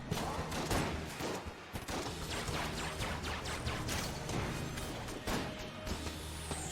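A boss's oversized gun sprays a rapid barrage of tiny bullets in the video game Enter the Gungeon, dense overlapping crackling shots in quick bursts, fairly quiet.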